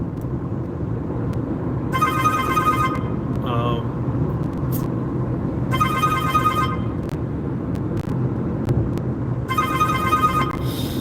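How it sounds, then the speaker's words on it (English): A phone rings three times in regular bursts, clear and fairly loud, over a steady background hum during a live chat stream. "as soon as the phone stops ringing, I will"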